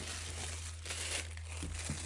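Craft paper being handled and cut, a quiet close rustle and crinkle lasting a couple of seconds over a steady low hum.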